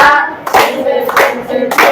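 A group clapping hands in the Tepuk Semar clapping game, loud close claps in a quick patterned rhythm, about four bursts over two seconds.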